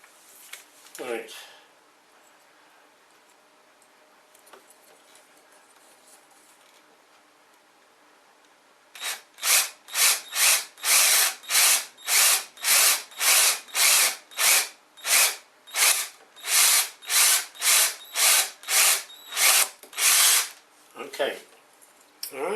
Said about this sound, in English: So you use a pilot drill to start with, and you don't drive it straight through in one go.